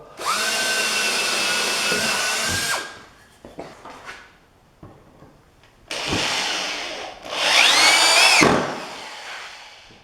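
Power drill driving a screw into soft wood while building a garden bench: a steady whining motor run of a few seconds, short bursts of lighter noise, then another long run that rises in pitch and strains before stopping, close and loud.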